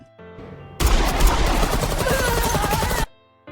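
A loud, dense burst of pistol gunfire erupts abruptly and roars for a couple of seconds before cutting off, framed by quieter tonal sounds.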